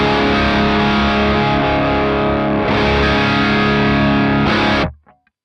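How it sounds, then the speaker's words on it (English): Thick, heavily distorted electric guitar from a PRS guitar played through a Kraken preamp on its first gain channel, loud sustained chords ringing for about five seconds, then cut off abruptly. "I've got my PRS Pause guitar and running into gain 1 on the Kraken."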